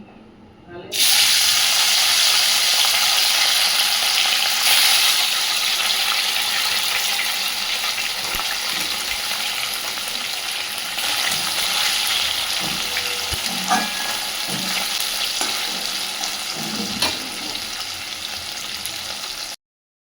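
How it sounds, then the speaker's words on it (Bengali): Fish fries in a pan with a continuous, close, bright sizzle and crackle that runs almost the whole time after a sudden start, with occasional clinks and spatters. "আমি মাছ ভাজা চাপি দিয়েছি"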